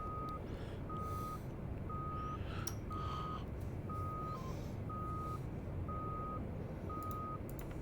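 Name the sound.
steady warning beep in flight simulator video game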